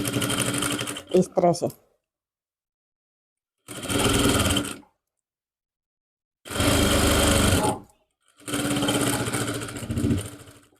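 A sewing machine stitching suit fabric runs in three loud, close bursts of rapid mechanical whirring separated by silent pauses, with a short spoken phrase near the start.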